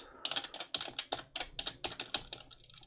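Keys tapped on a computer keyboard, including the spacebar, while playing a Tetris clone: a quick run of about a dozen crisp, close clicks in an uneven rhythm, with no talking.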